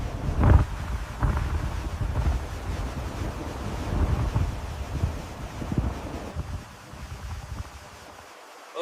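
Wind gusting outdoors on a beach at the 1903 Wright Brothers' first flight, a steady low rumbling buffeting with swells and fades, no talking.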